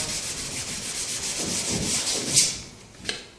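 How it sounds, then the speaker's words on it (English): Paint runs sanded out on a panel of a 1968 Dodge Dart during finish block sanding: a steady, close, raspy rubbing stroke that swells and fades, ending in a couple of sharper scrapes, with no voices. "Just sand them out."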